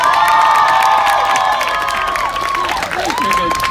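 Crowd at a youth climate strike rally cheering and screaming loudly and continuously, a dense wash of shouting voices and whoops with rising shrieks near the end.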